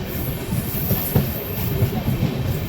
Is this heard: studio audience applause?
no